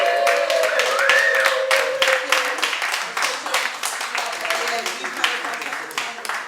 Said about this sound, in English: Please, can we keep the round of applause going